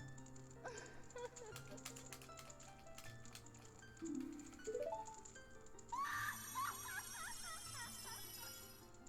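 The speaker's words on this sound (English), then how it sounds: "Her scream is so creepy." A woman's high, wavering scream from Ocarina of Time rises over steady game music and sound effects, sliding upward and then breaking into quivering cries near the end.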